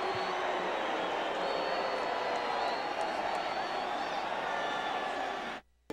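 A college football crowd at Broncos Stadium, Boise State against Idaho in 1998, roars steadily during a timeout, a wide, sustained wash of cheering that fades out abruptly at the end.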